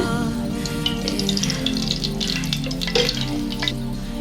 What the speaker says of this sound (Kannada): ಈಗ ಎಣ್ಣೆ ಹಾಕ್ಕೊಳ್ಳೋಣ